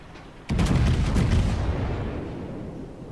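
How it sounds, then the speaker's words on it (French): Naval artillery fire at a ship in the World of Warships naval battle game: a sudden loud boom of heavy gunfire with overlapping blasts, then a long rumbling decay fading slowly. "il voit bien que tout le monde lui tire dessus"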